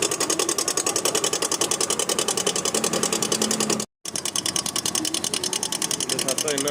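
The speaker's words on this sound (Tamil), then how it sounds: "செயின் டென்ஷனர் மரம் போயிடுச்சு, அதனால் இந்த சவுண்டு வருது" Idling Scooty Pep scooter engine with a worn chain tensioner, giving a fast, even mechanical knocking tick that repeats steadily, briefly cuts out, then resumes, with a voice faintly present.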